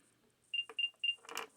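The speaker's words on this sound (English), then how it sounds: "you'll play a little sound on your AirPods" Apple AirPods playing their Find My alert: three short, bright, evenly spaced chirps in quick succession, then a brief burst of rustling noise.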